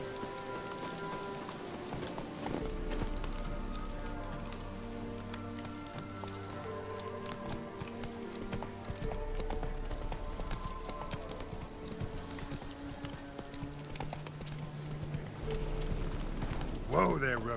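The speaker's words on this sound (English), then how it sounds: "Whoa there, Roach." Hooves of the horse Roach clip-clopping at a gallop in the Witcher 3 video game, a steady rhythmic patter mixed with game music and ambience, while someone talks over it.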